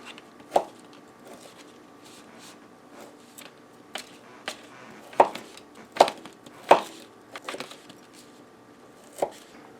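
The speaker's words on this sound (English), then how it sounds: "I'm just going to cut them up in little tiny pieces so they get mixed throughout the egg mixture." Partly frozen tater tots being cut into tiny pieces, a series of sharp irregular knife chops against a board, louder clusters near the middle and a last single chop, with no talk.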